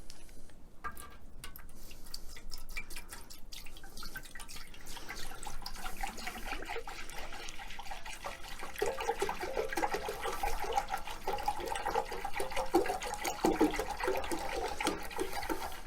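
Cleaning solution is poured into the tank of a VEVOR 6L ultrasonic record cleaner, a continuous gurgling, splashing stream of liquid that grows fuller and louder as the tank fills, heard close up without talk.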